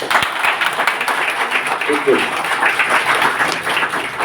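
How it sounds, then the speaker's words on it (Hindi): A seminar audience in Surat gives loud sustained applause, dense clapping continuing throughout with some voices mixed in. "पुराने लोग इन लोगों के लिए जोरदार तालियां बजाएं"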